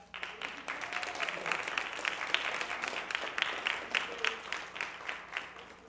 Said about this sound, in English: And please, a round of applause for